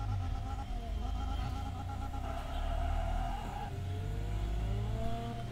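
Simulated car engine revving under throttle in the racing game Assoluto Racing, a steady game engine drone with shifting tonal whine and rising pitch sweeps, close and continuous with no talk.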